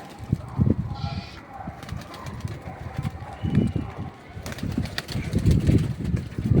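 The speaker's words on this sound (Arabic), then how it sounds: "الحمام اهو" Pigeons cooing in low, throaty bursts, fairly close, mixed with other animal and background noise in an outdoor setting.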